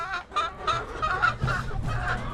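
Young hens about three months old cluck and chatter close by, with short repeated calls overlapping in an uneven rhythm and no talking.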